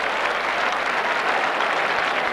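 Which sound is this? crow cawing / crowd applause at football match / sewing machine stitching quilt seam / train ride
crowd applause at football match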